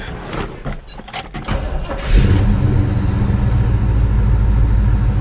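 A car's engine cranks and catches after a few clicks and rattles, then settles into a loud, steady idle close by.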